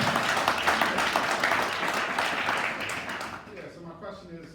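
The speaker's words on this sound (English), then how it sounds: "Mike, give him a big round of applause." An audience at a music workshop applauding, a fairly full burst of clapping that fades over about three seconds as a voice starts speaking.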